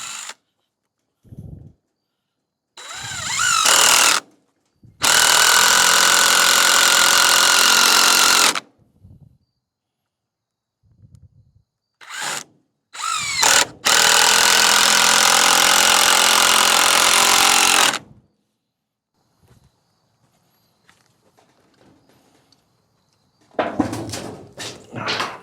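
A power drill drives screws in a backyard build. Several loud bursts of whirring run for a few seconds each, separated by quiet gaps with small clicks and handling knocks. The longer runs sound close and strained.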